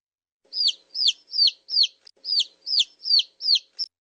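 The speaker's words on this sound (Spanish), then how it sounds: "El pollito." A baby chick peeps for an animal sound guessing quiz: about nine bright, high, downward-sliding chirps in a steady, evenly spaced series, clear and close with no talking.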